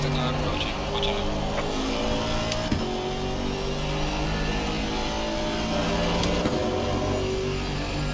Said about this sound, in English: Faster car approaching